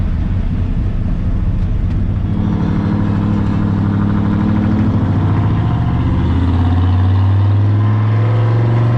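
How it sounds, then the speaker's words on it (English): A high-compression Ford F100 engine runs loud and close, its idle rising into a steady drone as it gains revs. A faint knock from a lifter may be present but is buried in the engine noise. "You can hear that faint little knock. I don't know if it's a lifter again"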